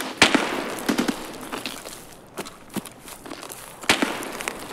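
Gunshots from a sniper in Escape from Tarkov ring out as sharp, loud cracks, several of them spaced irregularly over a few seconds, mixed with footsteps and movement noise.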